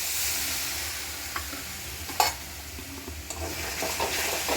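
Spice paste loosened with water sizzles in a pan for palak paneer, a constant hiss broken by a few sharp spatula clicks and scrapes as it is stirred.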